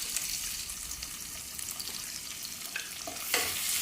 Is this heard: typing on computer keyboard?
no